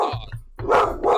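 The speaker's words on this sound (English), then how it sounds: "Just the dog barking." A dog barking close by indoors, several sharp, loud barks in quick succession with a brief pause between bursts, heard alone with no talking.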